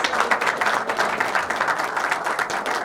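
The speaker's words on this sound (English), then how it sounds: "Yes, you can clap for me" An audience claps at a tech day event in a hotel hall, a steady, dense patter of many hands sustained throughout at moderate loudness.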